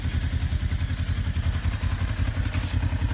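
Rusi 400cc motorcycle engine idling close by, a steady low, throbbing chug with a rapid even pulse and a light mechanical clatter, alone and unbroken throughout.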